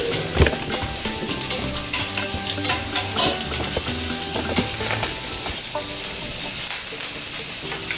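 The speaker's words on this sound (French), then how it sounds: "On peut continuer encore à griller." A chicken sandwich sizzles and fries steadily in a pan, the constant crackle mixed with the scrape and clink of stirring against the metal, close and continuous with no voices.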